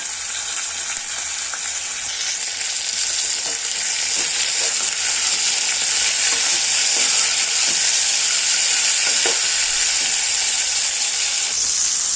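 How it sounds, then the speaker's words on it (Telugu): Field beans sizzle and crackle loudly in a hot pan with fried onions, a dense, steady hiss with occasional stirring scrapes and no talking. "ఇట్లా వేయించాలి. అనపగింజలు వేయాలి."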